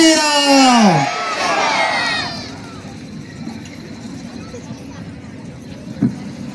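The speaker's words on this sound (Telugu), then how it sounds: "ఒక్కసారి గట్టిగా అందరూ చేతులెత్తి పైకెత్తి గట్టిగా జై శ్రీరామ్, మళ్ళొక్కసారి ఇంకా గట్టిగా జై శ్రీరామ్" A crowd at an RSS gathering in Vemulakurthi, Telangana loudly chants Jai Shri Ram in a single swelling shout, then fades into scattered murmurs and background noise.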